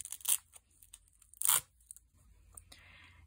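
Scissors cut around the rounded end piece of repurposed fabric for a slow stitching bag, giving two loud snipping, tearing strokes about a second apart, then a fainter soft rustle.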